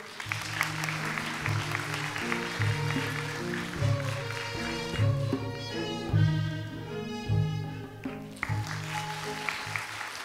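An audience at a student reading and humanities school entrance ceremony claps steadily for about ten seconds to welcome a speaker, while music plays loudly underneath.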